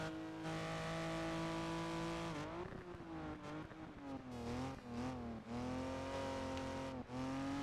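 A racing car engine in Project Gotham Racing 4 revs hard and steadily, its pitch climbing, dipping sharply at a gear change, then rising again; loud, continuous, no voices.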